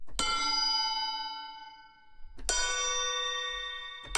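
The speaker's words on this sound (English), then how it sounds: "And some ringing anvils, probably." Two sharp metallic strikes on an anvil, each ringing out with long, bell-like overtones that slowly fade, close and clear.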